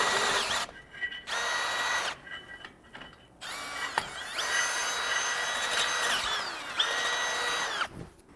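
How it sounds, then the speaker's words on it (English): A power drill with a 1/2 inch bit enlarges a hole in the frame of a 2024 Ford Bronco, whining in short repeated bursts and then longer steady runs, close and loud. "So I'm going to take my 1/2 inch drill bit and get these enlarged on both sides of our vehicle."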